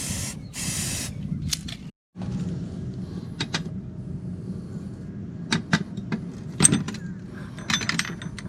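A can of spray paint is fired in short bursts on the repair of a heavy search-and-rescue boat's axle parts, giving brief hissing blasts separated by quiet gaps and a few small knocks.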